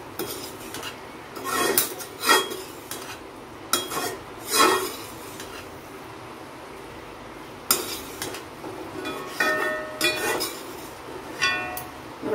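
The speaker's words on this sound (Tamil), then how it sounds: "பருப்பு தேங்காய்லாம் போட்டு நல்லா கிண்டி விட்டுருங்க." A metal spoon scraping and clinking against a pan while stirring a drumstick leaf stir-fry with lentils and grated coconut, in irregular bursts of scraping with quiet gaps, close up.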